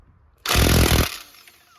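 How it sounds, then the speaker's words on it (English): An impact wrench loosens a 19mm brake caliper bolt on a 2009 Honda Pilot, one short, loud rattling burst lasting about half a second, then a fading tail, close up. "using my impact wrench to get these bolts out"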